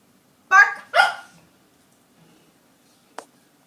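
A dog barks on command twice in quick succession during trick training, close and loud, followed by a brief faint yip after a pause.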